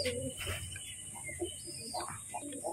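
A male domestic pigeon coos at a caged female, soft low throaty calls repeating through a faint, hissy background, fairly close and not loud.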